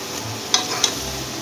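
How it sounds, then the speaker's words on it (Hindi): Tinda masala frying in a pan and being stirred, a steady low sizzle with two brief scraping clicks of the spoon, no talking. "मसाला जो है वो बहुत अच्छे तरीके से भून गया है"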